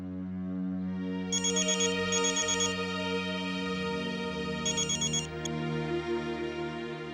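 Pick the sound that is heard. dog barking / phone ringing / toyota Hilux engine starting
phone ringing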